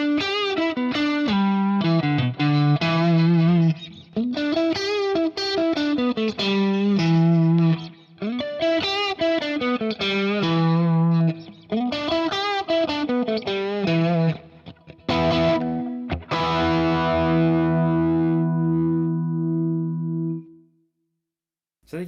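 A PRS Fiore electric guitar played through its various pickup selections, clean, chorus-tinged melodic phrases with swooping bends and sustained chords, close and loud, ending in a ringing strum that fades out.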